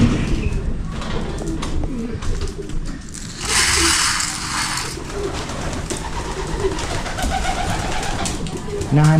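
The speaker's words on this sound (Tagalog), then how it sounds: "May ilang kalapate gusto lumabas dito" Pigeons coo steadily inside a loft, low murmuring calls layered throughout at close range, with a brief burst of broadband rustling or wing flutter midway and no speech over it.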